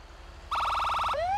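Siren of a Pierce Arrow XT fire truck in the video game GTA 5: a fast pulsing electronic yelp that starts abruptly, then sweeps upward into a wail, fairly loud over a quiet background.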